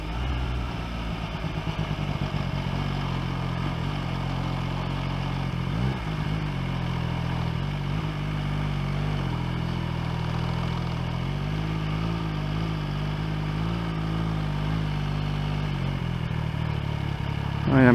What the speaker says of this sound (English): I am going to park the motorcycle.